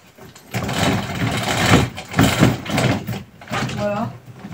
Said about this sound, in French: je vais quand même fermer le volet pour qu'on voie ce que ça donne dans le tout noir